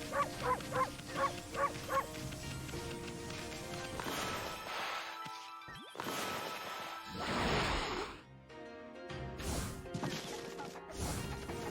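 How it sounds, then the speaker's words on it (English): Dogs barking in the video game Okami, a run of short rhythmic barks followed by heavy crashes and thuds over traditional Japanese-style game music. "we fed the 4 doggos we need to feed"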